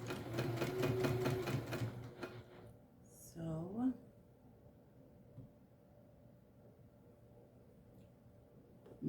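A sewing machine stitches a seam on a small sport backpack in a rapid, rhythmic burst lasting about two seconds, then stops, followed by a squeaky handling sound and quiet talk in the room.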